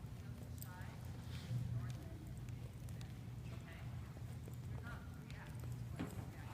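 Horses walking together under a rider, soft rhythmic hoof clops against a low steady background, faint and continuous while people talk nearby.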